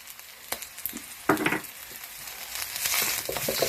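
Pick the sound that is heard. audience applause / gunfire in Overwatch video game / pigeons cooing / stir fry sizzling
stir fry sizzling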